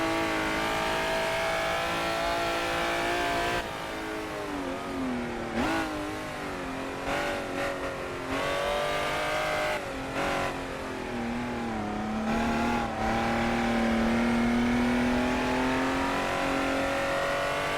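Aston Martin DB4 historic race car in a video game, engine droning steadily and rising and falling in pitch through gear changes and cornering, loud and close throughout, with brief tire squeals.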